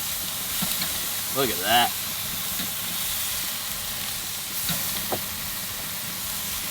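Asian BBQ ribeye skewers sear on a hot surface, giving a steady hissing sizzle that runs throughout while someone talks over it.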